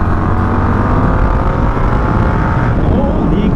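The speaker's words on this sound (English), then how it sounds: "This bike accelerates pretty hard" An Indian FTR 1200 motorcycle pulls hard under acceleration: a loud, dense, steady engine roar mixed with wind rush, sustained for the full few seconds without a break.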